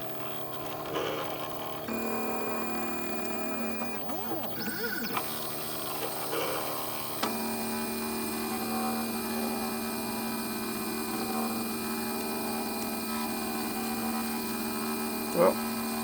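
A CNC 3018 Pro desktop router running, its stepper motors giving a steady whining hum with tones that shift and sweep as the axes move, close and continuous with a brief knock near the end.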